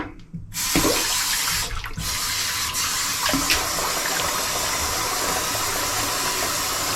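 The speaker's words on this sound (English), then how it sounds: "Couple that with a nice cold water rinse." Cold tap water runs steadily into a sink for a rinse during wet shaving, a constant close splashing hiss that starts abruptly after a brief moment of quiet and continues unbroken to the end.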